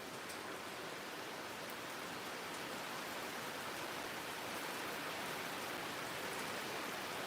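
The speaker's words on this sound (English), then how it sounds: "I want you to sit back and listen to the rain." Rain falls steadily over a garden, a soft, even hiss of countless drops that stays constant and fairly faint throughout, with no voices.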